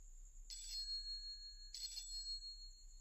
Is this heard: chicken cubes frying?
no